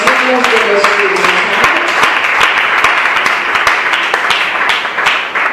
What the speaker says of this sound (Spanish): dale un fuerte aplauso, pero un fuerte aplauso al que vive por los siglos de los siglos